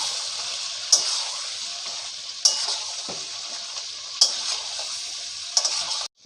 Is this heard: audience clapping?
no